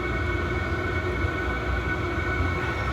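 A diesel heater for a Polaris Ranger runs steadily, its fan giving a constant loud roar with a rumbling low end and no variation over the few seconds.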